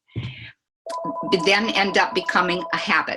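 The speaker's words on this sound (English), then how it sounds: "that's my phone" A mobile phone rings briefly during a wellness talk, a short electronic tone at the start before a speaker's voice takes over and continues.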